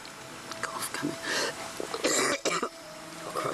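A woman with a bad cough, outdoors on an island during a reality game, coughs and clears her throat in several rough bursts, fairly close and loud, with breathy sounds between.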